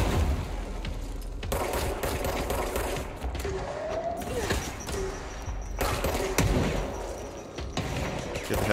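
Rapid gunfire bursts from weapons in the video game Control, a steady crackling rattle of shots over game ambience, continuous and fairly loud throughout.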